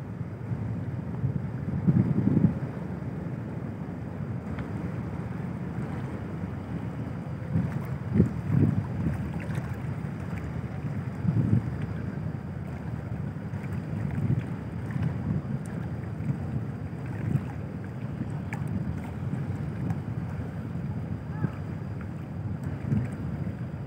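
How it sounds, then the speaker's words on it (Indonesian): The passenger ship Kelud pulls away from the dock at Kijang harbour bound for Batam, with a low, steady engine rumble under gusting wind and water noise heard from on board. "Perlahan kapal Kelut jauh meninggalkan dermaga pelabuhan Kijang."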